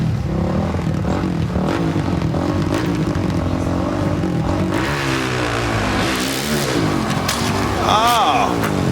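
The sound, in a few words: carbureted motorcycle engine revving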